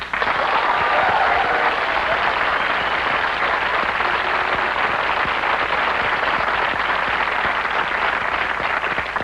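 Comedy club audience at a stand-up show clapping, a dense, even roar of applause that holds steady and loud the whole way through with no break and little else audible.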